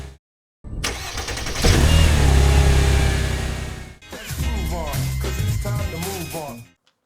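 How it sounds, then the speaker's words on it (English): A Range Rover engine cranks on its starter motor and catches, a close loud churning crank followed by the engine running, then a second crank-and-run burst with a brief pause between; a voice is faintly present. "I'll start the engine again and listen to the change in the speed of the starter motor."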